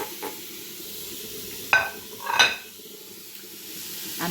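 Marinated chicken hitting a hot pan and being stirred, with two sharp metallic clatters of utensil on pan over a steady faint sizzle and hiss, close by with no talking.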